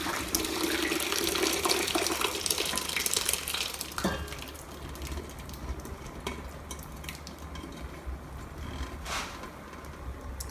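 Whey from homemade vinegar-and-lemon cheese is strained through cheesecloth, pouring and trickling steadily, louder and rushing for the first few seconds, then settling into a softer continuous flow.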